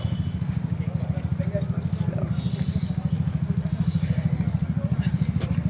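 Many big motorcycles idling and rumbling together, a steady low throbbing engine drone with rapid pulsing, fairly close, with faint clatter and background voices underneath.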